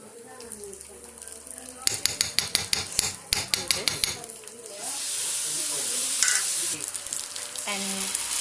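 Prawn manchurian frying in hot oil, with a steady broadband sizzle and a burst of sharp clattering taps near the start, and voices talking at points.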